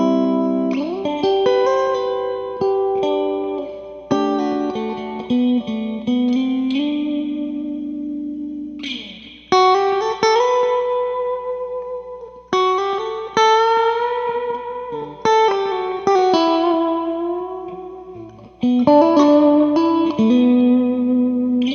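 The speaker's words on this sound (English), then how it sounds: "So I want to take this guitar and I'll show you how to dial some of those awesome tones in" Electric guitar through a Fender Blues Junior amp, played as a series of sustained chords and notes with chorus-like shimmer and slight grit, each ringing out and decaying before the next, loud and alone.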